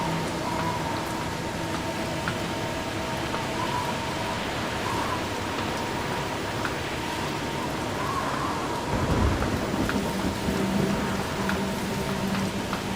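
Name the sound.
thunderstorm in the video game Snowrunner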